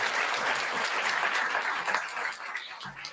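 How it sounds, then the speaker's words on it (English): A large crowd applauds at a hackathon opening ceremony, a dense continuous wash of clapping that stays strong throughout and tapers slightly near the end. "Can I get a huge round of applause for all of the partners who make what MLH does possible?"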